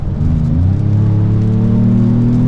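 A 2025 Ford Maverick Lobo with a 7-speed automatic on the Road America track, its engine a loud, close, steady drone that rises slightly in pitch as it pulls, with no talking.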